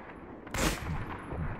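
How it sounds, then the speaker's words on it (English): A single loud, sharp gunshot in the World War II shooter Medal of Honor: Vanguard cracks partway through, then trails off into a short echoing rumble. "Where was the second shot from?"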